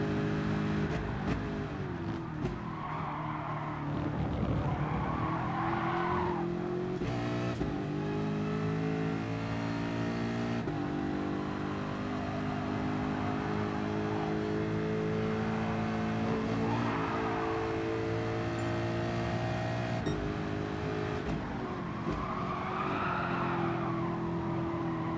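A Mercedes F1 race car in Gran Turismo Sport screams through corners at the Sainte-Croix circuit, its high engine note rising and falling with gear changes while tyres squeal repeatedly under braking and turn-in.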